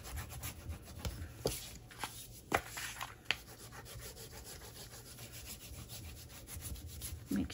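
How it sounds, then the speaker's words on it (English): A bone folder is drawn across folded paper to smooth it flat, making soft, intermittent rubbing strokes with a few light taps, quiet and close with no speech. "let's use our bone folder and get this all smoothed down really good."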